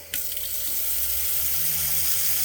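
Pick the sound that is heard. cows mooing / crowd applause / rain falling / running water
running water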